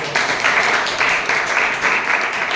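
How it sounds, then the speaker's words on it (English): An audience at a Toastmasters club meeting claps steadily in dense, continuous applause that stays loud throughout the short stretch. "they need a huge applause definitely"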